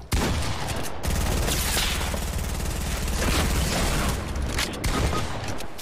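Sustained gunfire and cannon blasts in a multiplayer video game battle, a loud, dense volley of rapid shots and booms running without a break, close and continuous with no talking.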